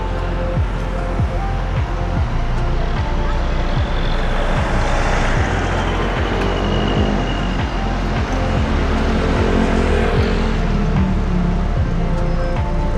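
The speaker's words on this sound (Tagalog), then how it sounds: "Traffic yun." Busy road traffic around a Davao City underpass closed for repairs: a continuous rumble of trucks and cars with repeated thumps from passing wheels and a faint high tone rising above the steady din.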